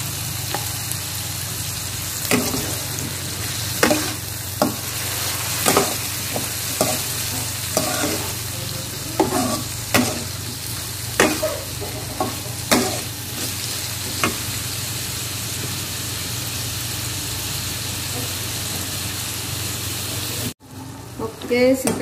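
Ground spice paste cooks in a pan with added water, giving off a steady sizzle broken by repeated scraping stirs. Near the end a brief pause cuts in, then the cooking sound resumes.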